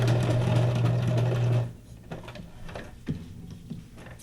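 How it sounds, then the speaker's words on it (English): A sewing machine stitches through an altered playing card for a junk journal, a loud close mechanical whir for about a second and a half, then stops, leaving faint clicks and handling noises. "I'm not doing any back stitching on these, since it's going to be glued down anyway."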